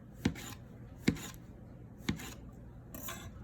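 A knife cuts thin slices of mushroom on a cutting board, four soft, evenly spaced taps about a second apart, close and quiet with nothing else over them.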